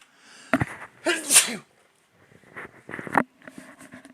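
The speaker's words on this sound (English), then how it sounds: "I'm gonna sneeze." One loud, sharp sneeze bursts out near the microphone, with a few quieter breathy sounds and faint shuffling before and after.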